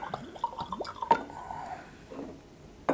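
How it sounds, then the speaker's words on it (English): Kavalan Podium whisky poured into a glass, a short run of close liquid trickles and drips with a little glassy clink at the end. "let's have a nice, good, healthy pour"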